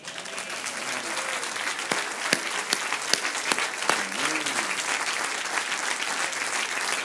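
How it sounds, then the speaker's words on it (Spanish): A church congregation applauding, a steady, close crowd of clapping hands that carries on throughout, with a voice briefly audible beneath it. "deme un aplauso con ánimo"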